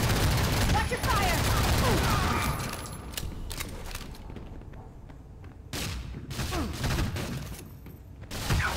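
Gunfire in the video game Fuse: loud, sustained volleys of rapid shots that ease into a brief lull before bursts pick up again.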